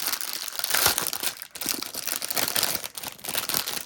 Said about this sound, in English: I think I did with it being in a crinkly bag.